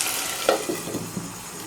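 Beef curry with chickpea dal cooks in a covered pot, giving a soft, steady sizzle with a few faint pops and bubbles.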